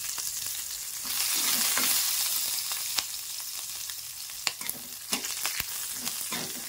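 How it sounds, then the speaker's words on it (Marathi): Finely chopped green chilies frying in hot oil for a dahi mirch dish, giving a continuous crackling sizzle with sharp pops and stirring clicks, close and fairly loud, with no voices. "आता आपण ही बारीक मिरची तळून घेऊ।"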